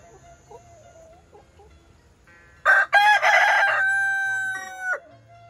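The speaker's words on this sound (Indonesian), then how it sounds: "ini ayam kongkorongoknya mantap pisan, mani ngoncrang" A rooster crows once in a loud, close, drawn-out call at a rural morning setting, after quieter clucking and faint background noise.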